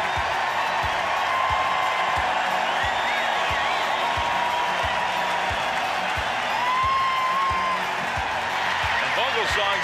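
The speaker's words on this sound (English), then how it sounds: "Listen to the fans for the right-hander Vogelsong" A baseball crowd of San Francisco Giants fans applauds and cheers pitcher Ryan Vogelsong, a steady roar of clapping and whoops filling the stadium, with someone talking over it.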